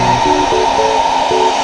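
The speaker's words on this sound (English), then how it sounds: "the absolute legendary Tresemme hair dryer" A Tresemme hair dryer running steadily at close range, a loud continuous whooshing blow with a faint whine, heard alone without talking.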